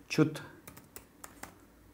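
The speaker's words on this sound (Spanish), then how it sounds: "Vamos a Google y vamos a escribir APC Power" Typing on a computer keyboard, a quick burst of keystrokes followed by a few separate, fairly close clicks spread over two seconds, with nobody talking.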